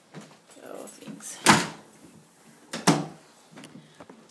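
A closet door opens and closes in a grimy house during a walk-through, giving two distinct sharp thumps a little over a second apart. Faint movement and scuffling sounds fill the gaps.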